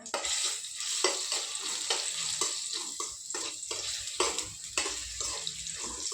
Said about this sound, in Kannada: ಇವೆಲ್ಲ ಆದ್ಮೇಲೆ ಸ್ವಲ್ಪ ಫ್ರೈ ಮಾಡ್ಬೇಕು ರೀ